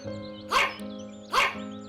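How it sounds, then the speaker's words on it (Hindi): A dog barks at a bundle of food, two sharp yips about a second apart, close and fairly loud over a low steady background. "एक कुत्ता उनके पास आ जाता है और उनके खाने की पोटली की तरफ भौंकने लगता है।"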